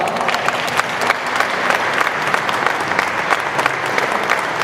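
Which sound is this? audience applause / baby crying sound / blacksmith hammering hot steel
audience applause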